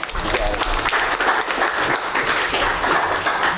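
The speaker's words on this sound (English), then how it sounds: "let's give a hand clap for Kentucky" Club members at a Frankfort Optimist Club meeting give a round of applause honoring Kentucky, dense and continuous clapping from a roomful of people, loud and close.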